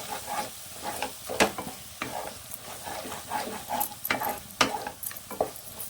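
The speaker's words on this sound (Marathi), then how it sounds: "यामध्ये घालूया एक मोठा चमचा पावभाजी मसाला आणि हे चांगलं मिक्स करून घ्यायचं" Pav bhaji masala being stirred into vegetables frying in oil, repeated scraping strokes of a spoon against the pan over a low sizzle, irregular and close, with no speech.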